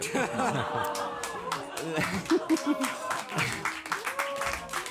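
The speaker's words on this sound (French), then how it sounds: "ils s'applaudissent" Marchers at a slow union street parade applaud themselves, scattered hand claps mixed with chuckles and chatter from a nearby crowd, fairly quiet and uneven.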